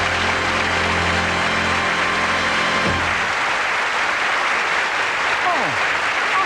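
Studio audience applauding on a 1983 BBC1 light entertainment show, a dense, continuous wash of clapping that fills the whole clip at a fairly loud level, with some low tonal sound in the first half.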